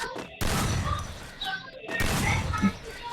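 Gunfire from a Free Fire video game as a player shoots at moving training dummies, with two loud bursts of rapid shots separated by a brief lull, with no speech over them.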